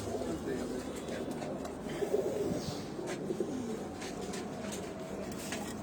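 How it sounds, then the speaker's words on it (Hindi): Pigeons coo softly in low, rolling repeated calls against a faint background hiss, with a few light chirps. "ये कबूतर मुझे देख के बोल रहा है माशाल्लाह माशाल्लाह।"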